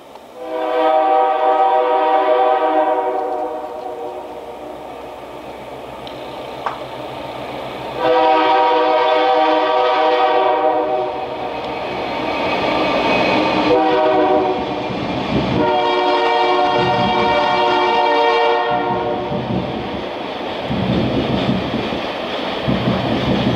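A train on the Adirondack Railroad passes directly overhead, heard from underneath. Loud blasts of the horn repeat over the rumble and clatter of the rail cars, with no voices.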